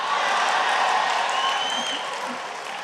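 Audience applause at a Jashn-e-Rekhta poetry recital, a dense broadband wash of many hands clapping that holds steady and then slowly fades, with no talk over it.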